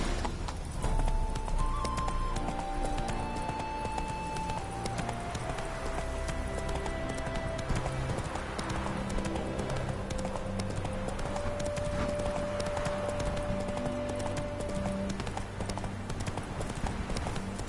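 Roach, a horse in the video game The Witcher 3: Wild Hunt, gallops with steady rhythmic hoofbeats under a continuous bed of game music, with no voices over the run.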